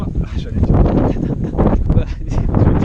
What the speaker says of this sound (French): Il va y avoir du vent tout le temps.